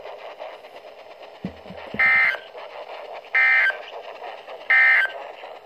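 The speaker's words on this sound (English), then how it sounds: "This concludes the weekly test of the warning alarm system." Three loud, evenly spaced electronic beeps cut through a steady hiss of static, Emergency Alert System weekly test tones on a weather broadcast.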